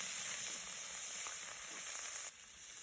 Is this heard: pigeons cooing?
no